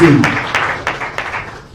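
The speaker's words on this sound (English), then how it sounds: "can we also give him a round of applause for the work he has been doing" Applause at a formal government event in Sierra Leone, opening with a voice and then a handful of loud, spaced claps over a short, fading patter.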